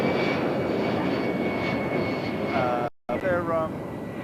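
An Embraer jet airliner passes at Heathrow Airport, a broad, steady engine roar with a faint whine, while people talk over it.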